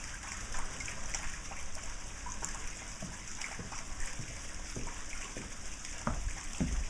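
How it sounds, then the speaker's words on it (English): Steady water trickling and splashing close by from a dock de-icing circulator, continuous and fairly soft under a constant hum, with a few small splatters near the end. "Love that sound of water"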